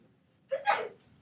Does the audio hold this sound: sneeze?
yes